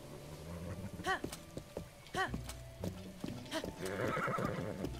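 A horse whinnies repeatedly in Zelda: Breath of the Wild, several sharp neighs over faint hoof steps, ending in a rising rush of galloping, moderately quiet with a soft game background.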